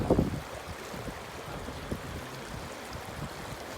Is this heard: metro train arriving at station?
no